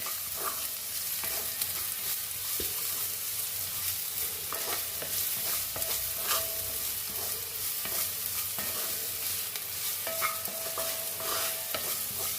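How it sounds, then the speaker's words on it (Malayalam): Sliced onions sauté in a pan for ghee rice, giving a continuous crackling sizzle broken by frequent scraping clicks of a spoon stirring them, with no one speaking. "സവാള ഒന്ന് ഒരല്പം ഒന്ന് വഴണമേ, ഒരുപാട് വഴണ്ട് പോകണ്ട, കുറച്ച്"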